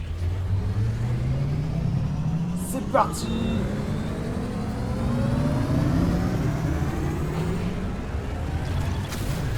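Motorcycle engine in Metroid Prime 4 revving and climbing steadily in pitch, loud and continuous throughout, with a brief exclamation from a man spoken over it.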